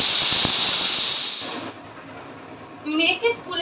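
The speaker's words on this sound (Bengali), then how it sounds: "তো প্রেশারে সিটি পড়ছে" A pressure cooker with eggs boiling inside lets out a loud, sustained steam whistle and hiss that fades after a second or so, then a voice speaks.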